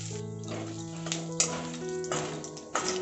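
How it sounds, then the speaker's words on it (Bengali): Whole bay leaves, dried red chillies, garam masala and white cumin seeds hit hot oil for a tempering, giving a steady crackling sizzle with a few sharper pops, over a continuous tonal background. "ওই তেলে এবার আমি ফোড়ন দিয়ে দেব গোটা তেজপাতা শুকনো লঙ্কা গরম মশলা আর গোটা সাদা জিরে"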